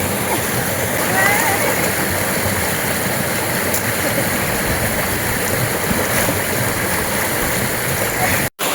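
A river stream where people are bathing in cold water: a loud, continuous rushing flow with splashing, close by, and people talking over it.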